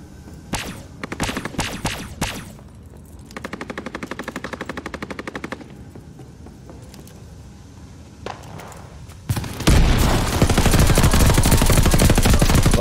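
Call of Duty Vanguard multiplayer gunfire: several loud short bursts of rapid automatic fire in the first half, a lull with scattered shots and footsteps, then a dense roar of sustained firing and explosions near the end.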